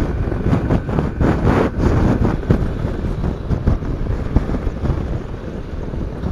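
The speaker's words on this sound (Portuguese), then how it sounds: "Tá ventando bem aqui, ó." Strong wind buffeting a rider's helmet on a motorcycle travelling around 80 km/h through Rio de Janeiro's Aterro do Flamengo, a steady loud roar with gusty low-end rumble and no talking.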